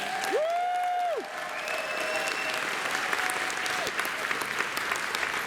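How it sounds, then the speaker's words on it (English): Audience applause for convention volunteers at a Dragon Con 2023 panel, a steady dense wash of clapping lasting throughout, with whistles and cheers rising over it. "So let's give the volunteers a round of applause."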